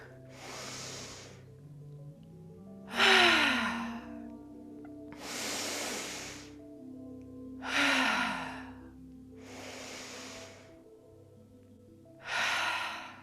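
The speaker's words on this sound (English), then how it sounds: "Take a big breath in through the nose. Let it go out the mouth." Slow, deep breaths drawn in through the nose and released out through the mouth during a mindful breathing meditation, several long airy exhales evenly spaced and close by.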